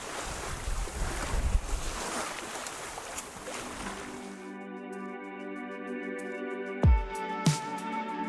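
A sailboat moves across the open sea, with wind buffeting the microphone and waves rushing steadily for several seconds before the noise gives way to a quieter tonal hum and a couple of sharp knocks.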